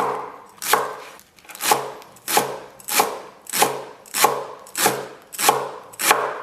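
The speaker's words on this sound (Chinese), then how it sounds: "1把韭菜控干水分切碎" A knife chops a bunch of drained garlic chives on a cutting board in nine evenly spaced, crisp strokes, each a close sharp thud with a brief rasp.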